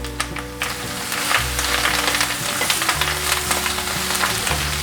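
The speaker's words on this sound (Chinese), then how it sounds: "油已经热了，把苋菜放进来" Amaranth greens hit hot oil in a wok for a vegan stir-fry, a loud close sizzle that swells and holds steady, with scraping stirring strokes and a low hum underneath.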